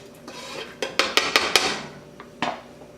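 Diced green onions dropped into a soup pot for meatball soup, heard as a quick run of sharp metallic clinks and knocks from a utensil against the pot, close and clear with quiet gaps between.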